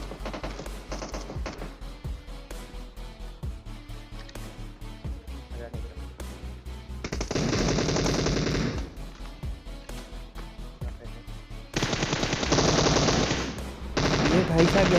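M416 rifle gunfire in the mobile battle-royale game PUBG Mobile, heard as loud, rapid automatic bursts. Several sustained volleys ring out over a dense game soundscape, with the heaviest sprays coming near the middle and again toward the end.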